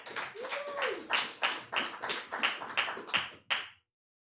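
A small audience gives applause for author Kim Dower at a Los Angeles book launch: a short run of about a dozen distinct, fairly quiet claps in a steady rhythm that stops abruptly, with a brief voice near the start.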